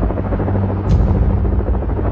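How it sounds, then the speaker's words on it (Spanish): A Black Hawk helicopter lifts off at night in a deep, steady rotor drone with a low thumping hum that swells slightly midway, loud and close, with no voices. "A las 23 horas, despegan los helicópteros Black Hawk de los SEAL"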